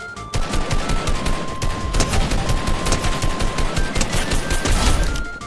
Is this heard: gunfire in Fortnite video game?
yes